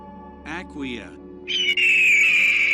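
An eagle calls with a few short harsh squawks, followed by a long loud high-pitched screech that holds steady to the end, heard close and clear with no other sounds around it.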